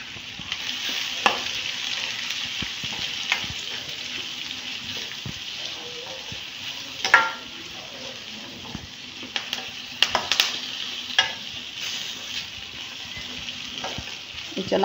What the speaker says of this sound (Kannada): ಇದು ಚೆನ್ನಾಗಿ ಫ್ರೈ ಆಗಲಿ